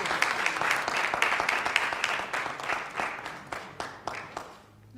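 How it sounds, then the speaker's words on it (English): Audience applause at an honorees' kick-off event in Chicago, a dense wash of many clapping hands that stays steady, then thins into a few scattered claps and fades out near the end. "A little bit more round of applause."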